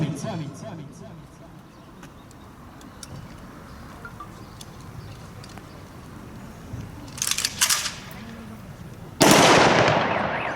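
After a stretch of low murmuring and distant crowd noise at a 2021 Victory Day commemoration, a single loud gunshot salute rings out near the end, followed by a fading echo.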